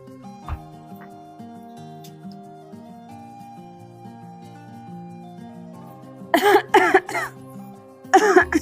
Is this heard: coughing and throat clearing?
yes